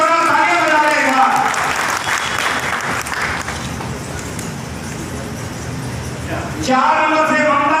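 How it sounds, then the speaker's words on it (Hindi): Audience applause at a felicitation ceremony for a newly elected municipal chairman and councillors at a Brahmin assembly, a sustained burst of clapping between spoken announcements at the start and end. "दोनों तालियां बजा देगा।"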